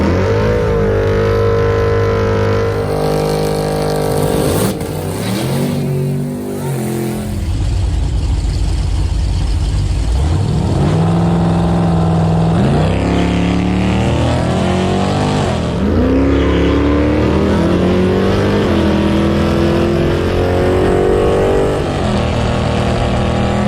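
Nitrous-boosted TNT Jeep launching down a drag strip, engine roaring loud and close, then climbing through repeated gear changes with rising revs as it pulls away.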